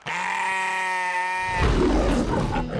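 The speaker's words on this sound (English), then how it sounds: "taking care of the kindest creatures on earth. Sheep. I want you to meet my flock." Sheep on a farm flock, one sustained bleat with clear wavering harmonics for about a second and a half, then rougher noisier calls and grunts from the animals close by, fairly loud with no talking.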